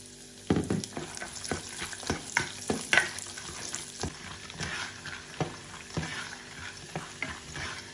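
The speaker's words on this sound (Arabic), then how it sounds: "بالسمنه هي زيتها بحط اللوزات وبقليهم" Almonds frying in ghee in a pan, with soft continuous sizzling broken by repeated scraping and stirring clatters at an uneven pace, close and fairly quiet.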